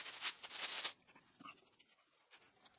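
A plastic bag is pulled and crinkled off the headstock of a white Kramer Baretta Special electric guitar with a taped-on bar, giving close, loud rustling for about a second before fainter scattered crinkles.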